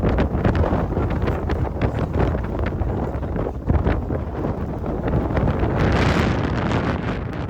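Strong storm wind roars steadily against the microphone, a loud continuous rushing buffet with gusts and a brief surge near the end, with no voices.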